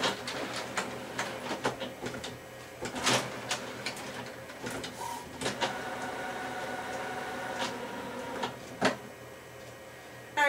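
A Kodak printer runs its automatic paper-level check after its trays are shut, giving a run of faint mechanical whirs and clicks with a few sharper knocks, heard close up and without talk.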